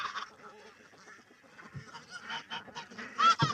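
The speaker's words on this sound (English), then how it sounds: "so the chickens found that pretty quick" Scattered clucks and squawks from several chickens pecking at kitchen scraps, soft and close, with a louder squawk near the end.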